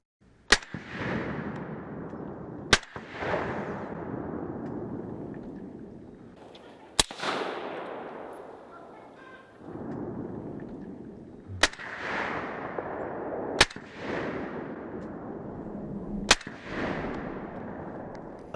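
Suppressed short-barrel AR-15 rifle fired six separate times at irregular intervals, each shot a sharp loud crack followed by a long booming echo that rolls away before the next.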